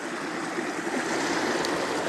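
A river flows through a canyon past a bit of ice, giving a steady broadband rush of moving water that holds even and continuous at moderate level, with no voices.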